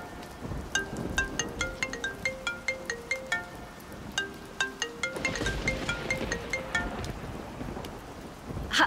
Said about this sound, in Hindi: फोन बज रहा है तुम्हारा